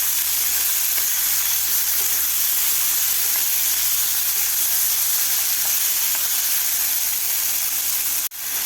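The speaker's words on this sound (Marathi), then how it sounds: "आता आपल्याला 3 ते 4 मिनिट आपल्याला हे मटार तेलामध्ये थोडेसे परतून घ्यायचे आहेत." Green peas being sautéed in oil, a steady, even sizzle and hiss close by with faint stirring, ending in a brief sharp click.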